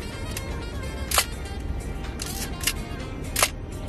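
A Minolta X-7 SLR camera with a horizontal cloth focal-plane shutter fires on its self-timer, making several soft, muted clicks spread across a quiet room background, close to the microphone with no talking.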